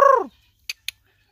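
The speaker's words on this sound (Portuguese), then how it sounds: "Que galo polaco, hein?" A Polish rooster in a pen beside giant Indian breeding hens lets out a single loud, short cluck that falls in pitch, then two faint clicks follow before silence.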